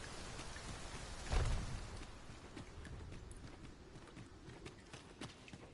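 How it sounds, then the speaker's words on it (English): Rain patters steadily in the Dragon's Dogma 2 video game, a soft continuous hiss with a brief louder thump early on and scattered faint drips afterward. "Surprising how often it rains in Batal."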